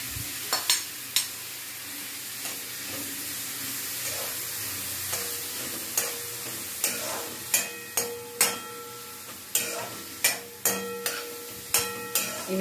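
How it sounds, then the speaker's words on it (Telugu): Paneer pieces fry in a pan with a constant soft sizzle, broken by regular scraping strokes of a spatula that grow more frequent toward the end, close up and without talk. "ఇవి బ్రౌన్ కలర్ వచ్చే వరకు ఫ్రై చేసుకోవాలి."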